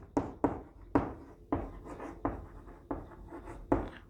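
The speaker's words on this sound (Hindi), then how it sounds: "मैं लिख दे रहा हूं द ग्रुप" Chalk or marker strokes on a board during a chemistry lecture on stereoisomerism, a series of sharp, evenly spaced taps and scrapes, close and fairly quiet, with no voice over them.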